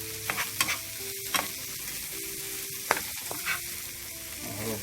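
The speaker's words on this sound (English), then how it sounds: "My thyme, my tomato, everything sauteed." Soft, steady sizzling of thyme and tomato sautéing in a pan, with a few scraping and tapping sounds of stirring, close and fairly quiet.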